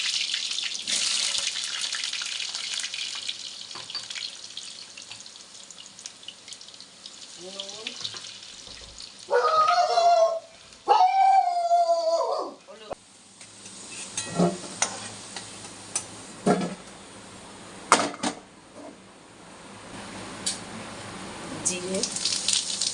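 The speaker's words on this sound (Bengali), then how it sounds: "আলুটা ভেজে নিচ্ছি" Potatoes fry in oil while a chicken curry is being cooked, giving a broad steady sizzle with occasional stirring clatter and brief louder bursts.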